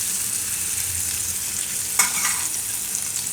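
Malai roti roasting in ghee on a hot pan gives a steady, close sizzle that holds evenly throughout, with a brief louder crackle partway through.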